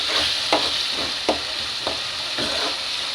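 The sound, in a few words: chopped tomatoes frying and stirred in pan for egg masala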